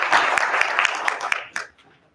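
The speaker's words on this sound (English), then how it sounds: "round of applause for Mr." Brief burst of audience applause at a faculty in-service gathering, many hands clapping densely, then quickly fading out to near silence.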